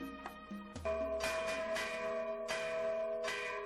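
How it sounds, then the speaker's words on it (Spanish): Church bells peal for Day of the Dead in Mexico, with repeated ringing strikes and long overlapping metallic tones filling the air, loud and fairly close. "Se llama a los muertos, tocan las campanas."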